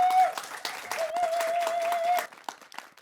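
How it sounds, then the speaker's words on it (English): Audience applause for poets at a poetry event, moderate clapping under and after a sustained tonal sound, trailing off toward the end. "A round of applause for our wonderful poets"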